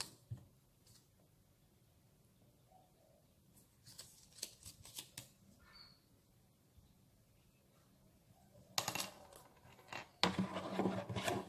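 Scissors snip through black and yellow paper in a series of short crisp cuts, sparse at first and then denser and louder near the end, with no talking.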